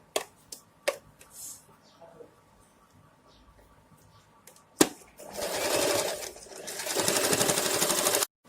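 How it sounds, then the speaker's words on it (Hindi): Sewing machine running a pant seam, with a few sharp clicks and taps early on, then a loud continuous burst of stitching that pauses briefly and resumes to lock and double the seam. "यहाँ पे सिलाई को लॉक करना है और डबल भी करना है"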